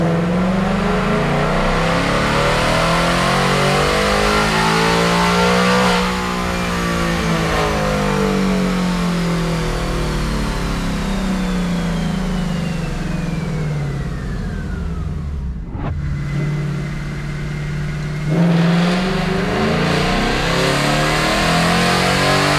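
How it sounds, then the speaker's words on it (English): A 2024 Mustang GT with a Gen 4 Coyote V8 revs hard through a dyno pull, a loud, sustained rising engine roar that climbs steadily, cuts off sharply near the end, then settles back. "Let's go ahead and get into some dyno pulls."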